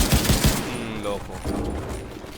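Gunfire in the video game The Division 2: a quick burst of several rapid shots at the start, then quieter game sounds and tones.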